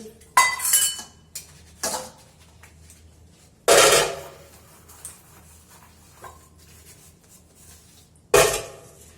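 Dishes and pots being washed at a sink, intermittent clatters and clinks of metal and crockery in several separate bursts, close, with quiet gaps and running-water hiss between.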